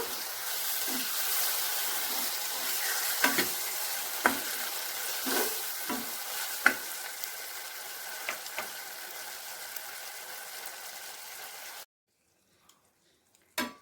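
Tomato sauce and spices sizzle steadily in a pan for egg chilli while a spoon stirs, giving periodic scraping knocks over a continuous fry, close by, before cutting to near silence at the end.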